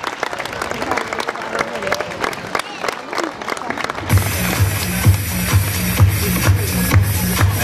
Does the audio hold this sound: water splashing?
no